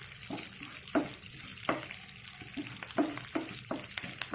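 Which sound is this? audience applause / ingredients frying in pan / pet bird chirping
ingredients frying in pan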